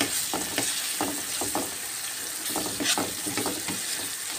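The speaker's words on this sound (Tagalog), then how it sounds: "Kaya naman natin maluto ang kamatis." Tomatoes for a macaroni sauce sizzle in a pan, a close, steady frying hiss broken by repeated stirring scrapes and clinks.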